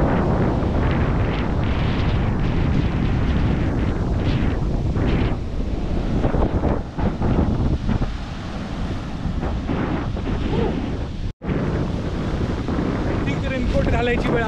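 Strong wind buffets the microphone on a Konkan beach during a fishing outing, a loud continuous roar with gusty swells and surf rumbling underneath.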